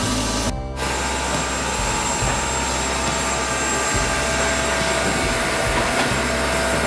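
A steam locomotive on the Lennakatten museum railway in Uppsala stands close by while being loaded with coal, giving off a steady, loud hiss and low rumble that continues without a break.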